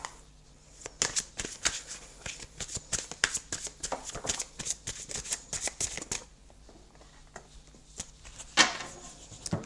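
Zen tarot cards being shuffled by hand, a close, crisp run of riffling flicks and soft slaps that carries on for several seconds, eases briefly, then ends with one louder snap.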